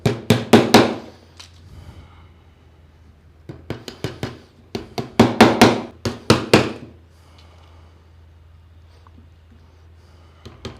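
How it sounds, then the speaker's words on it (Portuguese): Hammer blows drive nails into a rustic wooden shelf bracket in a woodworking shop, sharp close strikes in quick clusters of several hits separated by short pauses. "Agora é só pregar."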